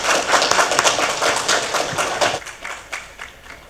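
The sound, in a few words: audience applause for a speaker called to the stage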